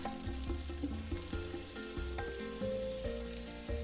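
Pancake batter fries in melted butter in a pan, a continuous soft sizzle running under prominent melodic background music.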